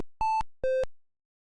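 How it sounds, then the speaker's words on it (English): Two clean electronic beeps sound one after the other in a Simon-style memory game built in Unity, a higher tone followed by a slightly lower one, each about a fifth of a second long and followed by silence. "then our 3 random tones are played out"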